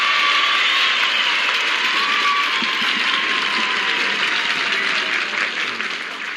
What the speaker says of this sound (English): The audience has really got to cheer down here.